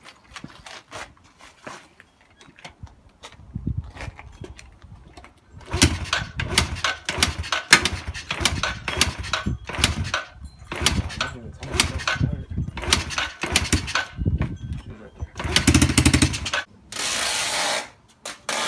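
A 2011 Yamaha TTR110E dirt bike is started and revs up, its small engine building to a steady, buzzing run with rising and falling throttle, close by, while people talk over it.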